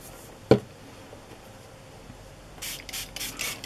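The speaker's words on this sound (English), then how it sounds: "Maybe I'll just spray it on my paper again." A few quick bursts of water spray hissing close by onto paper doilies, following an earlier sharp tap, with no voices.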